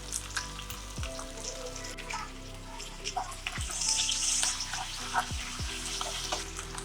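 Chopped ginger and garlic hit frying onions in a pan, a continuous sizzle with a few knocks and scrapes of a spoon against the pan.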